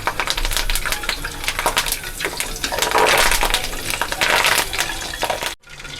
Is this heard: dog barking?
no